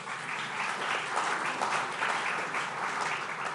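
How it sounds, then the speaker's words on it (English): An audience at a business forum in Bengaluru gives a steady, dense round of applause, continuous and even throughout with no voices over it. "a big round of applause again for this partnership"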